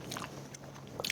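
Someone bites and chews crisp fresh vegetables from a beef tripe hot pot, producing a few soft, close crunches with quiet gaps between them.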